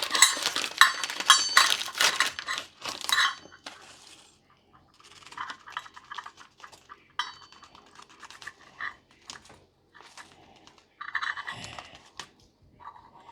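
Dry Old Bay seasoning and fish fry breading stirred together in a bowl, giving a busy run of close scraping and clinking strokes at first, then quieter intermittent stirring and taps.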